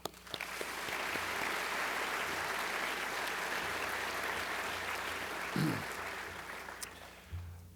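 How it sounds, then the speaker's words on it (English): A large audience gives a sustained round of applause at a Reagan Forum evening event, a dense even wash of clapping that holds steady for several seconds before tapering at the end. "So please, a round of applause for them."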